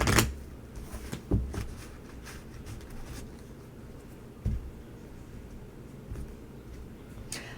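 A deck of tarot cards is shuffled close up, with quick papery riffles and soft slaps coming in brief bursts, the loudest at the start, with quieter rustles between them and no talking.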